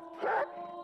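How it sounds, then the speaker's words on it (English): A dog in the video game Reigns gives a short, moderately loud vocal burst, a brief growl-like yip heard alone with no talk. "Stop growling at me."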